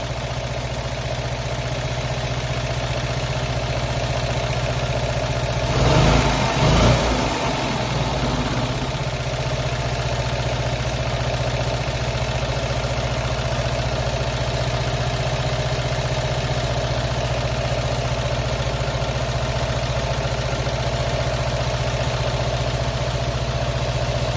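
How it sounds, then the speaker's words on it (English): A classic Fiat 500 engine idles steadily, with one brief rev around the sixth second before it settles back to a constant, moderately loud idle hum that carries on to the end, no talk. "Increase the idle RPM a little bit of gas. Now I'm looking for this number to come back down to about 850-ish."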